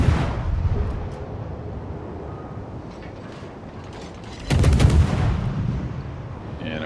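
Naval guns firing in a warship video game. Rumbling booms and mechanical noise build through the clip, then a sharp loud volley of shots breaks out near the end.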